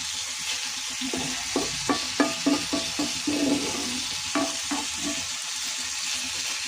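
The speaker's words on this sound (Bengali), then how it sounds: "উস্তে ভাজি চলছে, আমি ভাজি করছি আর কি।" Bitter gourd with small new potatoes sizzles in a pan while a spatula scrapes and stirs it in a series of distinct clacking strokes over a steady frying hiss, close and without talk.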